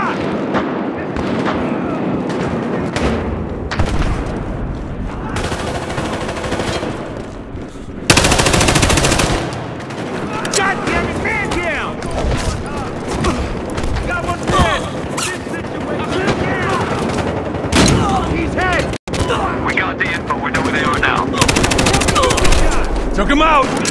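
Sustained gunfire from Battlefield Hardline, with rapid automatic bursts and loud blasts packed densely through a chaotic firefight, and voices shouting under the shooting.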